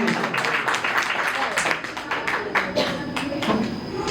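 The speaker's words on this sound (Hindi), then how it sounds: "जोरदार तालियां बजाइए आप उत्साह करते हैं।" Dense audience applause fills a poetry recital hall, a continuous wash of many hands clapping at once, loud and sustained without letup.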